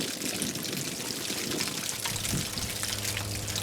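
Water forced by a pump out of an RV hot water heater tank during anode replacement, a steady close pouring and gushing stream that runs continuously throughout.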